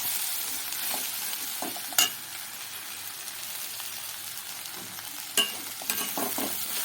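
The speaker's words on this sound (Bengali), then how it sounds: "শাকটা খুব সুন্দর করে ভাজা হয়ে গেছে, এবার আমি শাকটা ভালো করে নেড়ে চেড়ে গ্যাস অফ করে দেবো।" Water spinach greens stir-fried with jackfruit seeds and potato give a steady close sizzle in the pan, broken by a few sharp spatula scrapes and knocks as the greens are tossed, with no voices.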